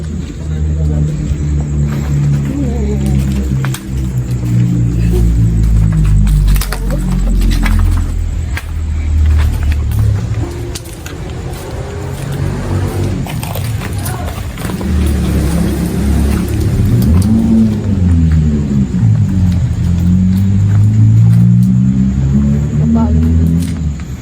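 A motorcycle engine revs in loud, rising and falling bursts outdoors at a cemetery in San Luis, with people talking over it throughout.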